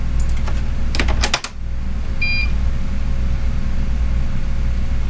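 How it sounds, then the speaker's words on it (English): Old computer's PC speaker beeps in a short rapid burst of high tones, followed a moment later by a brief faint double beep, over a steady background hum. "That's an interesting beep."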